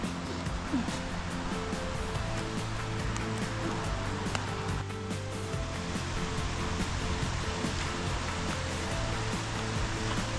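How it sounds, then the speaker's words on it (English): A waterfall pours at the foot of its drop, a dense, continuous rushing roar that fills the whole stretch at steady loudness with no voices. "Eventually, we arrived at the foot of the waterfall."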